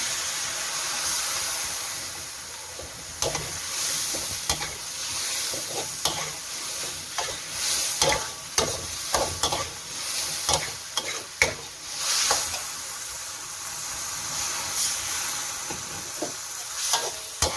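Snow peas and pork belly stir-fried in a hot pan, the steady sizzle and hiss of frying running throughout, broken by repeated scraping and clattering strokes of a spatula stirring the food.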